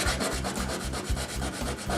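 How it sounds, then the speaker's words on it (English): Hand sanding a plywood canoe with a piece of sandpaper: steady, rhythmic back-and-forth rasping strokes, loud and close, repeating about every quarter second. "I'm just going to use a piece of sandpaper and see if I can't get rid of this fairly quickly by hand"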